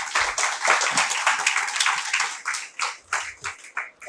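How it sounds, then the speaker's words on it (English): An audience at a conference session claps in a burst of applause, dense at first and then thinning into scattered individual claps toward the end, fairly close and without talk. "Please give a huge round of applause."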